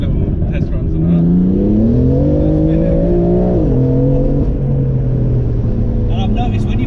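A 560bhp BMW M3 engine accelerates under load, a steady, moderately loud drone rising in pitch before easing off and settling into a lower hum, with voices talking over it throughout.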